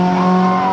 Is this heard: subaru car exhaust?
yes